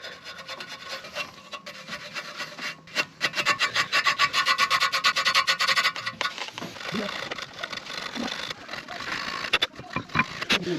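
Brake gunk scrubbed off the caliper of a 2004 Audi A6 Avant 1.9 TDI, a close, harsh rasping of rapid back-and-forth brush strokes in bursts, with brief pauses and small clanks.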